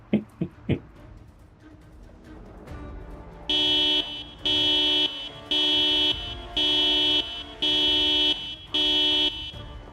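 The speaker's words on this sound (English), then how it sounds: "We'll do Vaco's 6 honks thing." A car horn honking six times in the video game Project Zomboid, evenly spaced long blasts that follow a few earlier sharp knocks over a low rumbling background.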